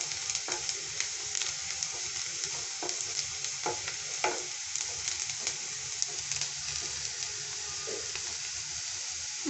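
Onions sizzle and fry in a pan for spicy masala Maggi noodles, with a steady hiss broken by repeated scraping stirs, close and fairly loud with no talking.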